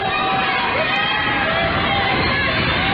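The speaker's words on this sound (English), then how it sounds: "Crowd making a racket across the way." A crowd roars and cheers without a break through a men's college basketball game between CSU-Pueblo and Regis, a dense, loud, constant din of many voices.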